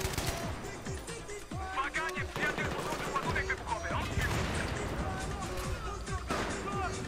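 A support-class machine gun fires in Battlefield 3, with loud, rapid bursts of close gunfire and repeated sharp cracks over a busy backdrop of battle noise.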